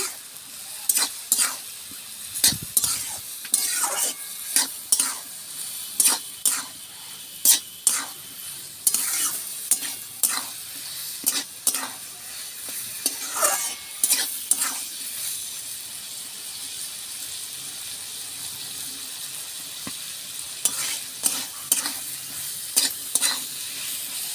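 Snake gourd seasoned with salt and Kashmiri chili powder is stir-fried in a pan, giving a steady sizzle broken by repeated sharp scrapes and clatters of a spatula against the pan, close and clear with no talking.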